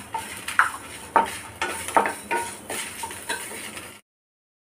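Dried sundakkai vathal fried in a pan with curry leaves and salt, heard as a steady sizzle with repeated scraping stirs and light clinks of a utensil against the pan, about a dozen strokes before it cuts off.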